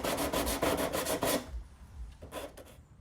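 Rapid back-and-forth rasping of hand sanding filler on a Dodge Ram fender, loud and rhythmic at first, then lighter, scattered scrapes as the strokes slow down.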